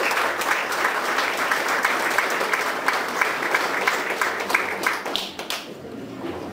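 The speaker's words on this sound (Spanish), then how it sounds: "A las Lupitas o Lupitos que llevan el nombre, también les damos su fuerte aplauso." Sustained crowd applause at a Virgen de Guadalupe patron saint festival in Tanque Blanco, Tula, Tamaulipas: dense steady clapping from many hands that fades out near the end, with no talk.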